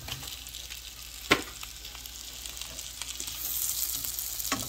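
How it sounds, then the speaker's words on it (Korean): Freshwater eel and abalone frying in butter and garlic, a steady close sizzle and crackle that swells slightly toward the end, with an occasional clink from stirring. "자, 일단 버터구이 한 팩 만들어 봅시다."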